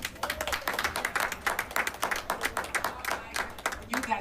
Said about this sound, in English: Let's give Dr. Valdez a big round of applause